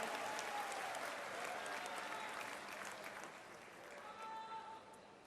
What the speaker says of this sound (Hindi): आइए अभिनंदन जोरदार ताली बजा के स्वागत करें माननीय मुख्यमंत्री जी का